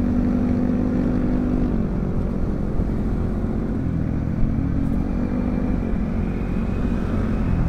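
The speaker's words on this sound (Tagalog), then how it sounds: "Yan yung ano, dinaanan ng motor." A steady engine drone fills the whole stretch, a motorcycle passing close by amid continuous road noise, with no voices.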